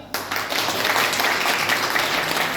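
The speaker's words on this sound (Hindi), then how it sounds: "तालियां।" An audience bursts into applause at a talk on crypto, starting abruptly and holding as dense, steady clapping for a couple of seconds.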